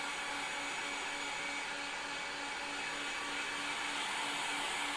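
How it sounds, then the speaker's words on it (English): A heat gun blows hot air in a steady, loud, unbroken roar while drying spray-painted planet textures, with no talking over it. "we'll get the heat gun again."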